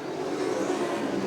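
Sprint race cars run at Butler Motor Speedway, their engines blending into a steady, moderately distant roar that holds its level throughout.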